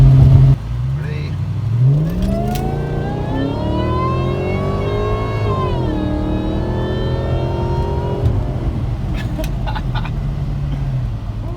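A supercharged Audi A6 running methanol injection revs and accelerates hard, engine pitch climbing, easing and climbing again in a loud, sustained whine close by, with brief talk at the start.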